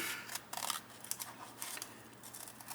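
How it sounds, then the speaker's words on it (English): Scissors cut a square from cardboard box in a series of close, crisp snips, several short cuts in an uneven rhythm in a quiet room. "I am going to just cut a square."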